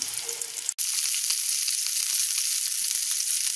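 Oil sizzling in a frying pan, a dense steady hiss with small pops that starts after a brief clunk and carries on alone at moderate volume.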